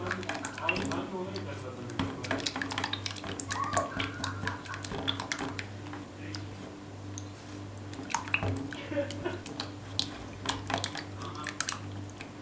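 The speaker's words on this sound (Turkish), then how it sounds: "3 tane tam yumurtayı eritmiş olduğum 125 gram tereyağını ilave ediyorum. Dilerseniz margarin de kullanabilirsiniz. Ve güzelce çırpıyorum." Three whole eggs are whisked with 125 grams of melted butter in a bowl for a water-börek-style bake, giving quick light clicking and squishing strokes beneath someone talking in Turkish throughout.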